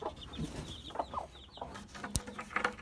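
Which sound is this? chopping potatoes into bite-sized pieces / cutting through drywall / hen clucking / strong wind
hen clucking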